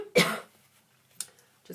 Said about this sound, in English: So I'm going to cough one more time.